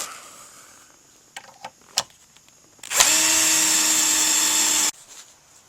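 A power drill drives a 3-inch screw into wooden boxes made of 2x6 lumber, a steady close whine of about two seconds that starts suddenly and cuts off, preceded by a few knocks and taps.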